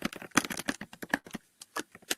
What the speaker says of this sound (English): So I'm not sure if somebody's busily typing away